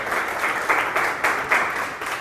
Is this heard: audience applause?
yes